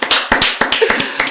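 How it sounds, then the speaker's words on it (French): Audience at a gospel show clapping, a few short bursts of hand claps in quick uneven rhythm, close and fairly loud, with no talk over them. "on applaudit pour ça"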